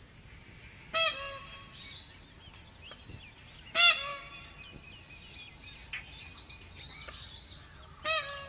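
Loud, harsh peacock calls ring out in scattered bursts as they mob a tiger in the jungle, over a quiet background, with fainter chirps and rustling between them.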